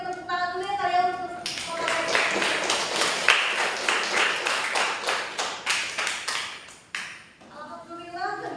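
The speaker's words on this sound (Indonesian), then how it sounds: "kita beri tepuk tangan dulu ya kalian" An audience at an Indonesian Muhammadiyah talk show claps in a dense burst of applause lasting several seconds, moderately loud and close, with speech before and after.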